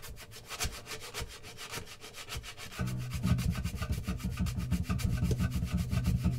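A hand rubs repeatedly across the built-in scratch plate of a collapsible carbon-fibre travel guitar, giving a steady run of close, rhythmic scraping strokes that grow louder and fuller partway through, with no talking.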